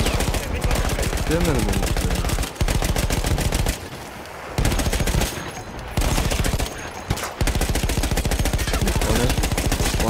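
Loud, sustained machine-gun fire from the World War I shooter Battlefield 1, rattling in rapid bursts with brief pauses, while someone speaks Turkish over it.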